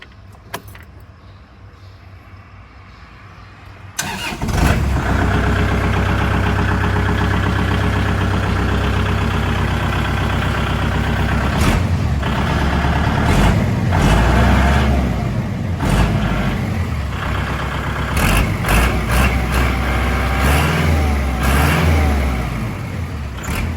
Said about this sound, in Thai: เสียงเครื่องยังนิ่ง ๆ อยู่ครับผมคันนี้